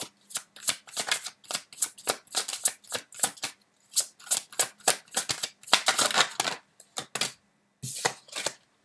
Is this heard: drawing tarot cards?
yes